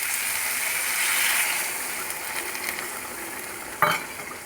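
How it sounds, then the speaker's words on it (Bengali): Water poured into a pan of frying fish curry brings a bright, hissing sizzle that swells then settles, ending with a short clatter of a utensil against the pan. "এবারে দিয়ে দেবো সামান্য জল"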